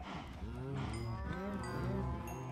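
Minecraft cows moo in a series of overlapping, wavering low calls, several animals bellowing one after another at moderate volume.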